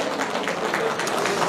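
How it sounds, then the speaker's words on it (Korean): Brief, steady applause from a concert audience at a Korean stage performance, a dense wash of clapping that holds at an even level throughout. "여러분 큰 박수를 보내주시면 고맙겠습니다"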